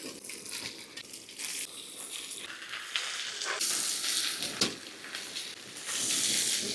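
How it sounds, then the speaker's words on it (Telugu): Pounded chicken pieces go into a pan over ginger paste and fry with a continuous close hiss and crackle, broken by a few sharp stirring knocks, rising louder toward the end. "ఇప్పుడు ముందుగా కొట్టి పెట్టుకున్న చికెన్ అయితే వేసుకుందాం."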